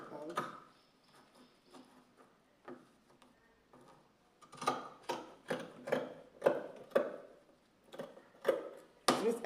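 Scissors cutting fabric for an A-line gown, heard as a series of crisp snipping and crunching strokes. They start sparse and faint, then come in a faster, louder run of repeated cuts near the end.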